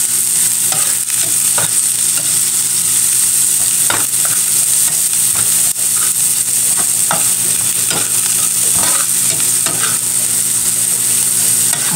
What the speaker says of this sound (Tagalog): Habang nagigisa po ako ng bawang at sibuyas